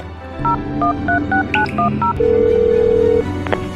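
A telephone is dialed with a quick run of close, clear keypad tones, followed by a single sustained ringing tone and a faint click.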